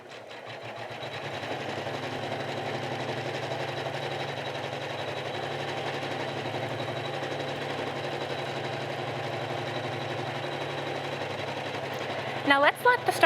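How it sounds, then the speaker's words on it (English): Computerized embroidery machine stitching a design onto quilting fabric, a steady close mechanical hum with fast rhythmic needle chatter running throughout, ending in a few brief bumps. "And now it's going to start stitching out."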